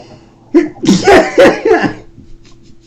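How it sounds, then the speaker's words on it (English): A person sneezes sharply and breaks into laughter in the same breath, a close, loud burst of several rapid voiced pulses that trails off into quiet. "They sneezed and laughed at the same time."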